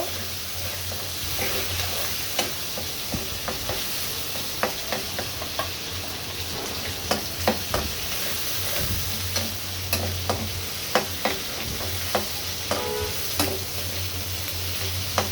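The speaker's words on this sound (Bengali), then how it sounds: "চিংড়ি মাছটা কিছুক্ষণ কষিয়ে নিয়ে তারপর হলুদ মরিচ অন্য মশলাগুলো সব দিয়ে দিব।" Prawns sautéing in a pan, a low continuous sizzle with a spatula scraping and tapping against the metal in an irregular rhythm, sharper knocks coming more often toward the end, with no voices.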